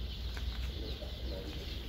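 Chickens on a poultry farm for rearing young birds, where the birds run about on the floor, give faint, scattered clucks. The calls sit under a steady broadband background hum with no voices.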